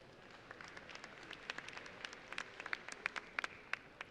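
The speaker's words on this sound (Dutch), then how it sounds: "En als jullie het mooi vinden, mogen jullie best klappen" Scattered audience applause breaks out at a stallion show, starting sparse and thickening into irregular sharp claps that stay fairly light and somewhat distant, with no voices over it.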